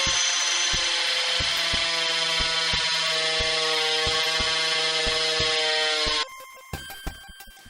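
A power drill boring holes for a home-built cockpit, a loud steady whine with rhythmic grinding pulses, ending in a few knocks and clatters after the motor stops.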